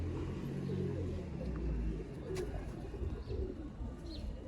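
Teddy pigeons coo in a low, soft murmur that runs steadily throughout, close by, with faint chirps and some background noise over the top.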